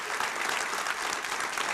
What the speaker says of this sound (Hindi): आप लोग अपनी टीम के लिए ताली नहीं बजा रहे हैं?